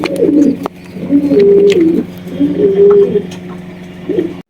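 Pigeons coo in repeated low, throaty bursts, three or four rolling phrases close by, with faint background noise between them.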